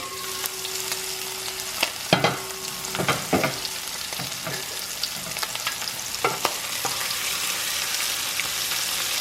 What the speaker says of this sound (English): But oh, it's sizzling.